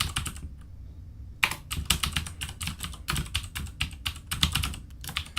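Typing on a computer keyboard while entering C# code by hand, a steady run of close, clicky keystrokes in irregular bursts after a short pause.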